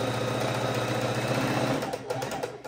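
A sewing machine stitches fabric scraps into a strip for a scrappy heart pillow, a steady rapid mechanical whir with fine repeating needle pulses, close and alone, slowing near the end.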